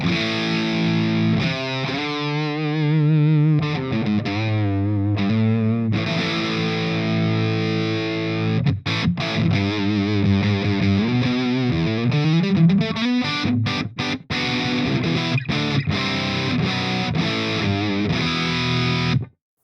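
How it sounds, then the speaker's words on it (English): An electric guitar plays through a Flattley Outlaw Plexstar overdrive set to low gain, giving a lightly driven, crunchy tone: sustained chords and bent notes, then quicker choppy strums and riffs, loud and close with no voices. "this is basically the Plexstar, and I'm very low with the gain"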